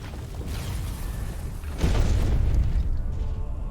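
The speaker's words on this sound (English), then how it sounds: "Got hit by the explosion" Explosion in the action game Stories: The Path of Destinies, a deep muffled boom bursting out midway through a low, rumbling game soundscape and lingering as a heavy rumble.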